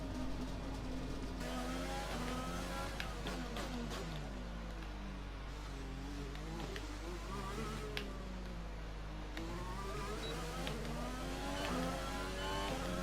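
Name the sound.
race car engine driving a lap in F1 2020 video game at Monaco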